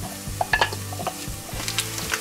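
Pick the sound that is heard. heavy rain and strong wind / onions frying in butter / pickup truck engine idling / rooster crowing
onions frying in butter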